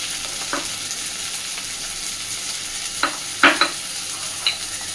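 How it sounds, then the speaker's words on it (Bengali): Crushed garlic fries in a pan, a soft continuous sizzle with a few sharp spatula scrapes and taps near the end, close and without any voices. "খুব ভালোভাবে এবার এগুলোকে ভেজে নেব"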